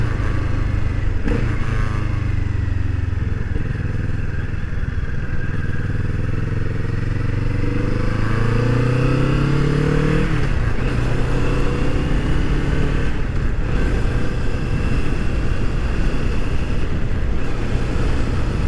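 A Kawasaki Vulcan S with a booster plug installed rumbles loudly while ridden, its engine note rising and falling as the rider rolls on and off the throttle, with heavy wind buffeting the microphone throughout.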